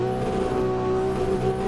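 BMW E36 Pro Driftmasters drift car engine holding a steady, loud idle-like drone with strong tonal hum, continuous and close throughout.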